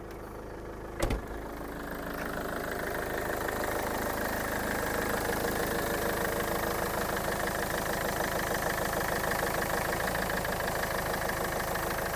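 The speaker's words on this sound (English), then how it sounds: "turn the engine on, run it a bit to temperature" A Mercedes C200 CDI diesel engine (OM646) idles steadily at close range with a low, even rumble and knocking rhythm, after a brief click near the start.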